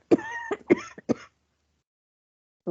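A few short, harsh throat-clearing coughs in quick succession, close and fairly loud, followed by silence and then a brief sound at the end.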